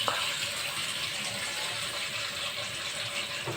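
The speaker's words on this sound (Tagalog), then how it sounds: "lagyan na natin siya ng tubig para ready to cook" Water pours steadily into a pot of freshly washed mango leaves, making a continuous close gushing splash that runs for the whole stretch with no talk.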